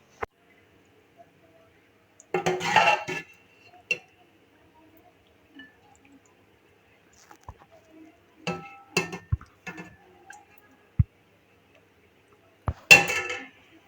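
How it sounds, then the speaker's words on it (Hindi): Cooked masala black chickpeas being served onto a dish, with scattered clinks of a spoon against the plate and the pot in several short bursts separated by quiet gaps. "अब मैं आपको डिश आउट करके दिखाती हूँ।"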